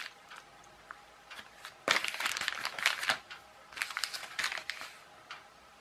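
A plastic bag from China crinkled and rustled open up close, bursts of sharp crackling that start after a quiet moment and come in irregular clusters.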